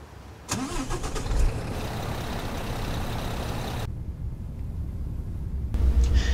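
A Peterbilt 579 truck in American Truck Simulator cranks and its diesel engine fires up, settling into a loud, steady idle with a brief shift in tone partway through.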